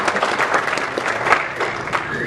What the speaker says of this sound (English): So let's give them a hand clap for helping what you do.